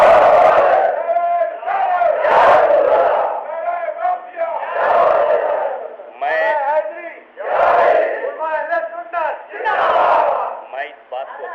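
A large crowd chants slogans in loud, rhythmic call-and-response bursts that swell and fade about every two and a half seconds, at a 1975 religious gathering in Manchester.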